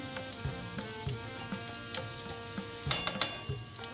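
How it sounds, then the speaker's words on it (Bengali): Fennel seeds and chopped ginger temper in hot oil with a faint steady sizzle, broken by light ticks and a few sharper crackles and pops near the end, close and without talk. "তার সাথে দিয়ে দেবো মৌরি ফোড়ন"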